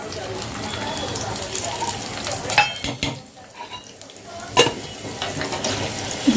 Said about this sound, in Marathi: जे काजू बदाम मी बारीक केलेले आहेत ना ते आपल्याला तुपामध्ये फ्राय करायचे आहे चांगले